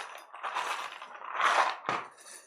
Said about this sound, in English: So I'm going to put my sewing clips in there.